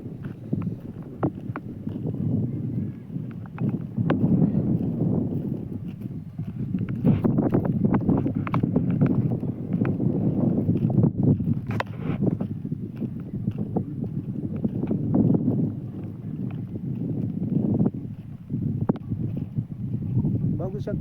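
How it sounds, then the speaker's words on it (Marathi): Wind blowing steadily outdoors in open country, rumbling and gusting against the microphone throughout, with voices speaking over it. "खूप मस्त वारा लागतो."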